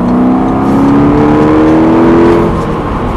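A SEAT Leon Cupra or Ibiza Cupra engine pulls steadily under acceleration on an open road, its rising tone whirring loudly for a few seconds before easing off.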